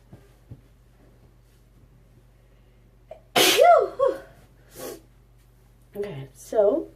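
A loud, close sneeze indoors while makeup is being applied, followed by a few short breathy sounds and sniffles afterward.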